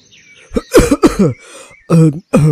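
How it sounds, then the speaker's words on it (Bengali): A man coughs just outside a room, with a few harsh, close coughs and some throat clearing in separate bursts, loud and alone. "বাইরে একটা কাশির শব্দ শুনতে পেলাম।"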